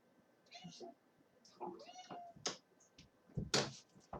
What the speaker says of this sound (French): Mon chat.